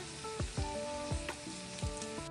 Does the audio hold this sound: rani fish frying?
yes